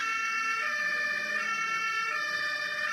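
A continuous high electronic siren from a 1/14 scale toy aerial ladder fire truck, with a buzzing, layered tone, held steady and loud throughout, close-up with no voices.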